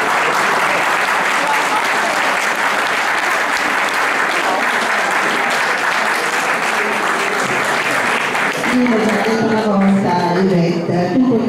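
An audience applauds dancers at an English waltz event, loud continuous clapping filling the room, with a voice starting to speak over it near the end.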